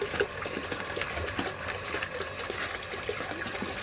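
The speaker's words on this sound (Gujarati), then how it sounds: "તો પાણી આવે છે" Tap water runs in a Gujarati village home, a faint, steady hiss and splash continuing evenly with no breaks.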